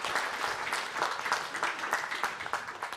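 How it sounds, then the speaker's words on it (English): Audience at an academic conference applauding, a moderate crowd clapping steadily at a fairly quiet level, with individual claps audible throughout. "A round of applause, please."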